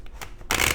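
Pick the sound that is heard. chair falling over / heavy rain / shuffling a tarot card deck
shuffling a tarot card deck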